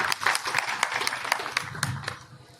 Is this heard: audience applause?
yes